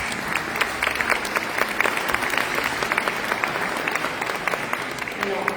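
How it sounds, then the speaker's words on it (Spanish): An audience at a Peruvian political event gives a speaker a sustained round of applause, dense steady clapping from a crowd filling the room for several seconds without pause. "La recibimos con fuerte aplauso."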